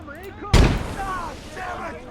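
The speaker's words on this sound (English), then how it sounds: "We've got the first of the artillery firing." A single heavy boom from artillery fire in a World War II video game, loud and close, with a rumbling tail that decays under ongoing voices.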